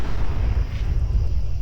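A Fallout 4 explosion sounds as a steady, deep rumbling roar with a dense low-end wash, close and loud, holding level for the short stretch with no voices over it.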